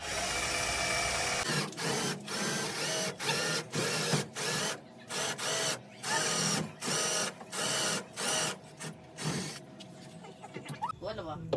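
A power drill whirs in a series of short bursts with brief pauses between them, close and fairly loud, as screws are driven into the plywood floor of a van.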